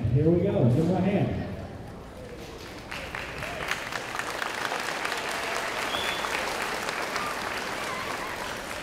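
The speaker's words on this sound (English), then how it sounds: "Give him a hand." Audience at a school band program bursts into applause after a short spoken announcement, a dense wash of many hands clapping that holds steady and fairly loud for several seconds.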